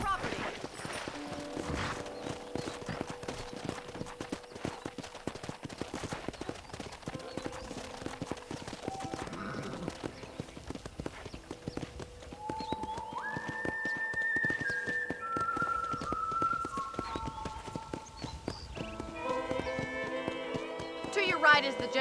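Horse hooves clip-clop at a steady trot on hard ground in Red Dead Redemption, with someone talking over them and soft music chiming in later.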